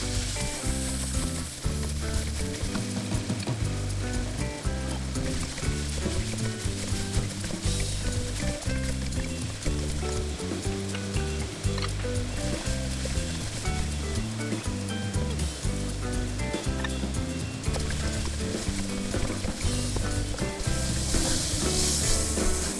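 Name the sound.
chicken dice stir-frying over high heat in a wok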